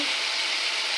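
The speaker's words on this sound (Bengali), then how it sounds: "ভালো করে নেড়ে মশলাটা কষিয়ে নেব" Spice paste of ginger-garlic paste and turmeric powder frying in oil with browned onions, stirred steadily: a loud, continuous hiss and crackle with no pauses or voices.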